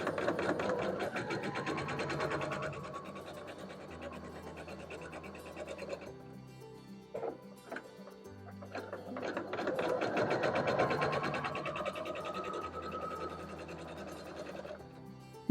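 Sewing machine stitching quilt pieces straight down the center to form a half-square triangle, a loud continuous mechanical whir that slows in the middle with a few clicks, then speeds up again.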